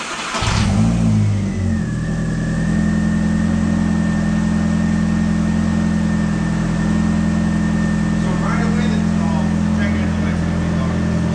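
A tuned VW MK4 with a 1.8T engine and tuned ECU cranks and catches, then settles into a loud, steady, droning idle with a faint whine, while voices talk briefly in the background.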